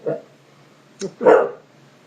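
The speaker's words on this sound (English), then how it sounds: "Here's my two dogs." Two dogs bark in short bursts, a brief yip near the start, a sharper one at about one second and a louder, longer bark after, each separated by quiet room hum.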